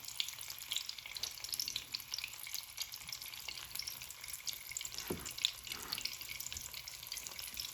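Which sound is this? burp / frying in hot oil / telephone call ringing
frying in hot oil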